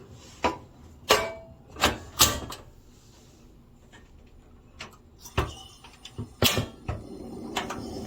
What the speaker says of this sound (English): First, I'm going to insert my butane.